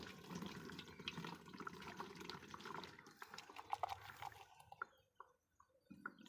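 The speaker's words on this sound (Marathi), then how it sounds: "बघा, तर पंपात टाकतो मी" Herbicide and water mixture pours into a farm sprayer pump tank, a steady splashing gush of liquid that thins and breaks into scattered drips near the end.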